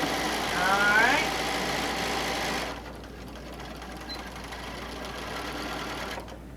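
Close, fast mechanical hum of a sewing machine running a serpentine multi-zigzag stitch for a quilt-as-you-go cover, a brief voice at the start, then the motor steadies and cuts off near the end.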